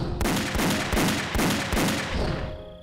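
Gunfire in a martial arts drama, a rapid run of loud, overlapping shots with rhythmic bursts that continue for nearly three seconds.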